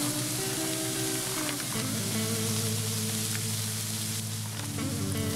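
Frozen fried rice with chopped onion stir-frying in an oiled pan, a steady close sizzle with broadband hiss and low tonal hum running throughout, no talk.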